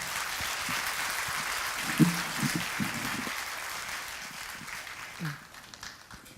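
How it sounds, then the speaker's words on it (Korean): A church congregation applauds to welcome Pastor Esther Kim from Uganda, a steady wash of clapping across the whole stretch that swells briefly near the middle, then thins and fades, with faint voices underneath. "뜨거운 박수로 맞아주시기 바랍니다."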